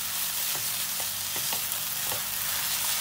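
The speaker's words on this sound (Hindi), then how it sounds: "अब हम इसमें डालेंगे हमारा कैप्सिकम और इसको अच्छी तरीके से मिक्स करेंगे।" Capsicum being stir-fried into masala in a pan, a steady close sizzle with occasional scraping stirs of a spatula and no talk.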